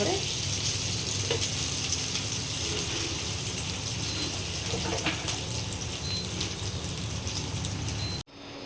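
Chicken and chopped jackfruit fry in a pan for a curry, giving a steady, loud, dense sizzle that runs throughout before cutting off abruptly near the end.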